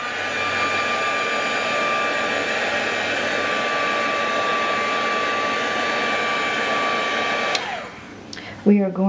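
A heat tool blows hot air to dry Distress Paint on a small cut piece of paper, giving a steady, loud whirring hiss that cuts off near the end. A voice follows briefly.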